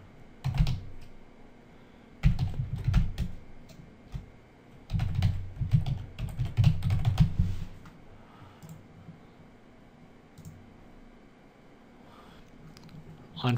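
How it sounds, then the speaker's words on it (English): Password typed on a computer keyboard during router setup, several clusters of rapid clacking keys and clicks with quiet gaps between, close by with a faint background hum. "Type a little password in here."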